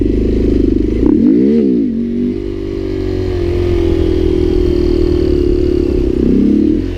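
A Honda Grom motorcycle revs up sharply for a slow wheelie, then holds a loud, steady engine drone, close and continuous, before a second rev near the end.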